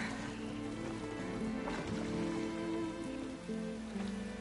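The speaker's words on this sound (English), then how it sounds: "And of course it's raining." Rain falls steadily in Horizon Forbidden West, a constant hiss of drops over a low rumble, with in-game tones and boat sounds blended beneath.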